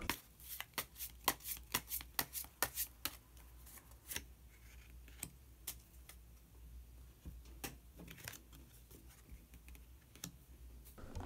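Tarot cards being shuffled and drawn for a fortune reading, heard as a quick run of crisp flicks and snaps that thins into scattered soft card clicks and slides, close and fairly quiet with no talking.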